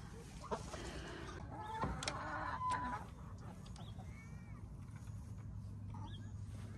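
Nineteen hens clucking and murmuring softly inside a coop, with a few sharper calls and steady background noise; voices are heard briefly.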